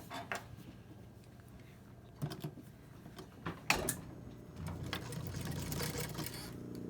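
A sewing machine stitching a pleat about an inch down on a shirt, with soft clicks and handling knocks at first, then a quieter, steady run of stitching near the end, heard close up.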